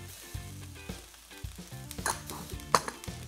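Salt and pepper tofu with vegetables sizzling in a stir fry, a bright crackling sizzle with a few pan and utensil clinks, heard close over background music.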